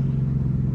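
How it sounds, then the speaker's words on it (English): A loud 2014 Mustang GT with long tube headers downshifts, giving a brief, deep exhaust rumble that holds close and heavy for under a second. "Another downshift right quick."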